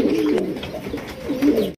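Pigeons cooing close by, including blue satin birds, a steady run of soft, throaty low coos that swell and fade in repeated phrases with no talk.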